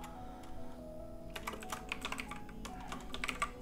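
Quick keystrokes on a computer keyboard while HTML and CSS code is entered, soft irregular clicks close by over a low steady background hum, with no talking.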